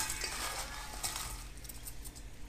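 Brussels sprouts being tossed with olive oil and breadcrumbs make a soft, continuous rustling and scraping, with faint clinks from utensils against the dish, steady and fairly quiet throughout.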